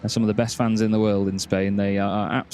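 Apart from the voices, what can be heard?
No everyday noises stand out.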